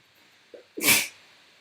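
A single sharp sneeze bursts out close by, preceded by a brief small intake of breath.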